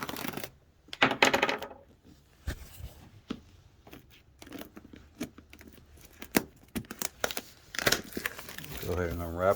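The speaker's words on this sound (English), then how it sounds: "Alright, so I took the shrink wrap off." Shrink wrap being peeled off a new power supply box during an unboxing, with close, loud crinkling and crumpling bursts and a few sharp ticks, broken by quiet gaps and brief talk.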